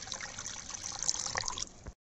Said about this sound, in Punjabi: ਹੁਣ ਇਹਦੇ ਵਿੱਚ ਨਾ ਲੀਟਰ ਪਾਣੀ ਪਾਵਾਂਗੇ ਆਪਾਂ।